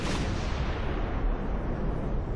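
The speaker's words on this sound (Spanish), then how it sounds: "ordena que se dé un cañonazo desde Guadalupe" A cannon fired from the Guadalupe fort as a battle signal booms in a dense, sustained roar that fills the whole moment at a steady loudness, its rumbling low end rolling on while the brighter top slowly fades.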